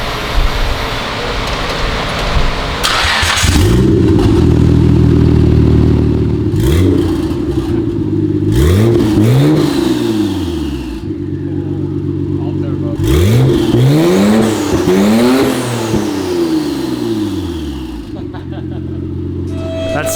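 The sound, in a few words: Nissan R32 GTR engine running with turbo only, no exhaust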